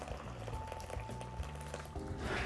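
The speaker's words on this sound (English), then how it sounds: "So we're gonna pour in our boiling water." Two cups of boiling water pour into a bowl of Jell-O mix for popsicles, a steady liquid splash and gurgle with a low hum, growing brighter and louder toward the end.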